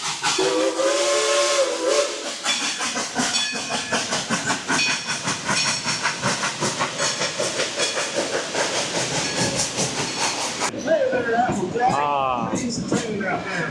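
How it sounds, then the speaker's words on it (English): A steam train whistle blows long and loud at the Blazing Fury ride at Dollywood, then the rapid chuffing of the locomotive rushes past, with a second whistle blast near the end. "here comes the train"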